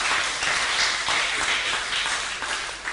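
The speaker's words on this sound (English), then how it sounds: "Deserves an applause there as well." Applause at a 2012 Solent society and volunteering awards ceremony: a dense, steady burst of clapping from an indoor audience, loud and continuous for a few seconds before tapering slightly at the end.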